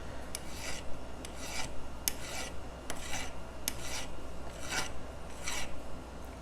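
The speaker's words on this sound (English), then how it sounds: "the sound of the filing is going to change a little bit, and you'll know that you've gotten all of the excess solder off" A metal file rasps excess solder off the edge of a silver jewelry piece in about eight evenly spaced back-and-forth strokes, close and clear with no voices.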